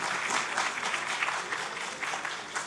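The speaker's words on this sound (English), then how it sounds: "And I think a big clap" An audience at a governance workshop gives steady, fairly loud applause, a dense rippling patter of many hands clapping together for the whole stretch.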